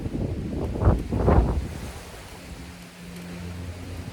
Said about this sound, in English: Wind, man. That wind.